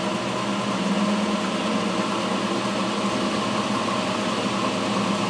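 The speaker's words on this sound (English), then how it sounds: "Crank it up some more. 600 RPMs. 24 volts." A home-built permanent magnet alternator spins at speed during a voltage test, giving a steady, loud mechanical hum and whir that holds unbroken from start to finish with no voices.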